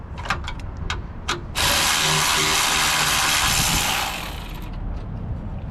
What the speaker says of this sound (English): I'm gonna take that bolt out because it's actually kind of annoying.